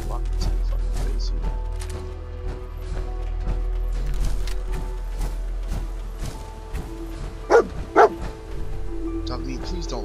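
Dog companion barking in Fallout 4, short yips and woofs scattered through the stretch, with two louder barks near the end, all under steady game ambience and someone talking over it.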